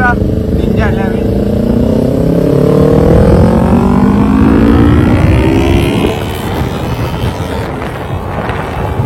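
A Kawasaki Ninja motorcycle engine revs up and holds a rising, droning note, then eases off, loud and close among a Ganpati visarjan procession crowd in Mumbai, with voices mixed in.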